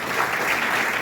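A live audience at a Hindi-language government school event applauds, a dense, loud wash of many hands clapping continuously with no pauses.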